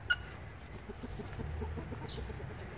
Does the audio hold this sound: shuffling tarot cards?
no